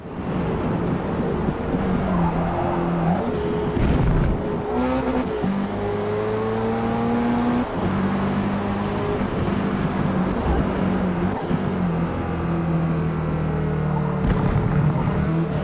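A racing car's engine in Forza Motorsport revs hard and climbs through repeated gear changes, its loud, close whine rising and dropping several times as the car is pushed fast through corners.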